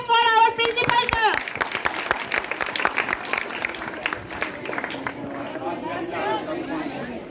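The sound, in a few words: school audience clapping for principal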